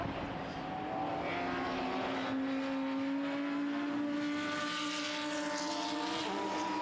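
Audi R8 and Lamborghini Huracan GTC race cars lapping the Most circuit, with a steady, distant engine drone whose pitch slowly rises and falls as they pass, heard alone.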